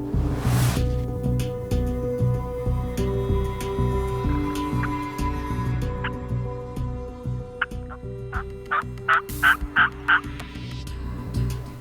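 Wild turkeys gobble and call back to hunters' calls outdoors, with a sequence of rapid, fairly loud gobbles and clucks building toward the end amid quiet surroundings.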